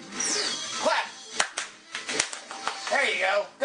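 A handful of sharp hand claps scattered irregularly over a lively voice and bright background sounds, each clap a crisp, quick snap.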